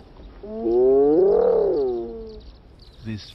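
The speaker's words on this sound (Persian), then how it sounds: "صدای این خرناس با فرکانس پایین که می تواند تا 5 کیلومتر دورتر هم برسد" A drawn-out, rising and falling hyena vocalization, a deep low-frequency moaning growl with strong tonal layers, followed by a brief softer call.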